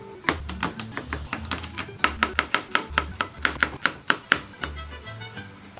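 Garlic being chopped with a knife on a cutting board while burritos are prepared, a series of crisp rapid taps in uneven bursts, close and clear, with no talking.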